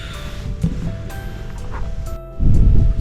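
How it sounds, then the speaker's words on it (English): Strong wind buffets a fishing lake bank beside a bivvy, a steady low roar that swells louder near the end, with gusty rushing and rustling throughout. "because I'm in the teeth of the wind, it is biting"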